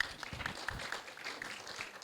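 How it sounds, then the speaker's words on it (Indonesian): Scattered audience applause during an Indonesian health talk, loose uneven claps with a soft crowd wash underneath, moderately quiet and fairly brief. "Boleh tepuk tangan ya?"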